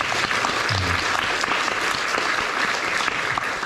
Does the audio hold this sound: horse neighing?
no